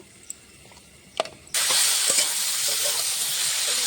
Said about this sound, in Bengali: সবজিটা ভাজা হচ্ছে